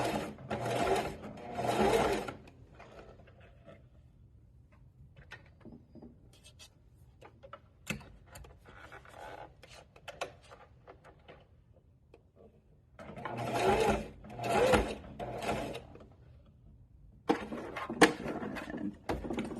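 A sewing machine stitches a fabric bunny pattern in short bursts of rapid whirring, separated by quiet gaps with faint handling clicks and rustles.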